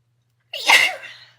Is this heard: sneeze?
yes